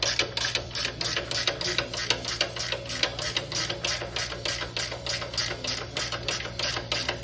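Wrench working a lock nut loose on a commercial trap spring, a fast, even series of sharp metallic ratcheting clicks repeating close up over a low steady hum.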